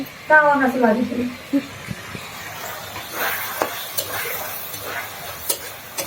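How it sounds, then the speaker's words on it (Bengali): Potatoes frying in a pan for aloo bhaji: a soft, continuous sizzle with occasional scraping and stirring clicks, close by. A voice speaks briefly at the start. "দেখেন আলু ভাজি করছে"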